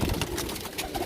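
A female pigeon gives a brief soft coo, close and low, over faint background noise.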